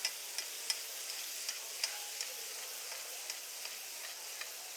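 Monkfish and black pudding fry steadily in a pan with garlic and rosemary butter, giving a continuous bright sizzle with faint periodic ticks, close and alone with no voices.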